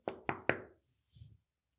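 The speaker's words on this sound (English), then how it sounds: "goes over, and knocks on the window" Three quick, firm knocks on a car window sound close together, followed after a pause by a faint soft rustle.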